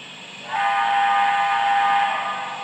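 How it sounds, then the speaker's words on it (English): A small HO-scale model steam locomotive whistle sounds one sustained, bright multi-tone blast lasting about two seconds, then fades. "Ah, I love that whistle."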